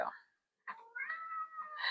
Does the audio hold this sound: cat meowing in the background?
yes